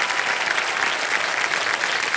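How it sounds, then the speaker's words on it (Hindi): A studio audience on a television quiz show claps loudly and steadily, a dense burst of applause lasting a couple of seconds with no voices over it. "उनको ताली बजाओ जोर से"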